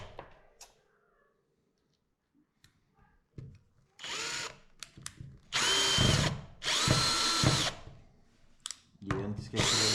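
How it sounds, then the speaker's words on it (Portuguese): A power drill backs a screw out of a homemade pool table with an iron frame, giving several loud close whining bursts after a quiet start, separated by brief pauses. "Eu volto o parafuso aqui."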